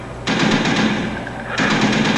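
Sustained automatic fire from an HK gun in a zombies video game, two long bursts separated by a brief dip, loud and close with no voices over it.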